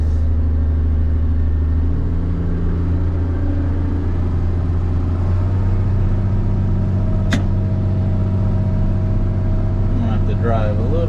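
A dump truck in reverse idles and rumbles steadily up close as it backs along a driveway, its engine drone shifting in pitch partway through with a brief sharp click near the end.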